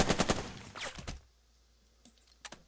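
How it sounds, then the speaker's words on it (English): Machine guns fire in Burden of Command, a World War II tactics video game: a quick rattling burst of close shots, then a few sharper shots, fading to near silence with a couple of faint clicks near the end. "fire with the machine guns"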